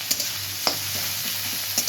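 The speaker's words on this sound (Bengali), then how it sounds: "এই চপ করে রাখা গাজর আর পেঁয়াজ। ভালো করে এগুলো একটু ভাজা ভাজা করবো।" Chopped carrot and onion frying in a pan, a steady hiss of sizzling broken by a few scraping stirs of a spoon, close and moderately loud.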